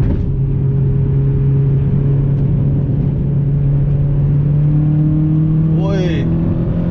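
A second-generation Toyota MR2 W20 engine accelerates through a long second gear, a loud, steady droning rumble from inside the cabin climbing slowly in pitch, with a short chirp near the end.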